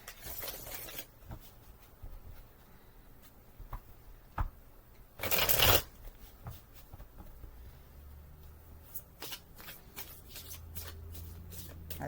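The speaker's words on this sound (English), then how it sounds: "Good playing card shuffle." A tarot deck is riffle shuffled, giving a sharp burst of rapid flutter, then several soft taps and card handling noises nearby.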